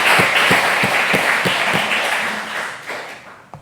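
A church congregation at a Sunday worship service claps together, the applause starting with a few distinct rhythmic claps and then fading out gradually into near silence.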